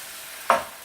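Fish sauce and soy sauce poured into a wok of sizzling beef, one brief sharp hiss bursting up then fading quickly over a low background sizzle.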